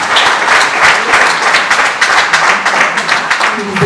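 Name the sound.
audience applause at book launch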